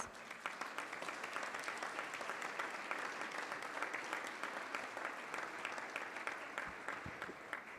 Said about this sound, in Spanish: Pido un aplauso para todos ellos.